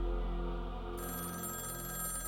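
A telephone rings unanswered in a continuous electronic trill with strong tonal harmonics, close and steady, and its pattern shifts partway through.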